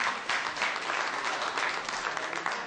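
Steady audience applause for a woman performer at a poetry and music tribute evening, dense clapping filling the room at an even level with no voices on top.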